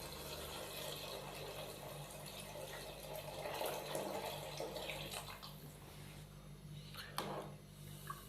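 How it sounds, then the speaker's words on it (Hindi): Water pours steadily into a pot of chicken matar pulao, giving a continuous rushing, splashing wash close by that swells midway and ends with a few small clinks. "इसके अंदर पानी शामिल करूँगा।"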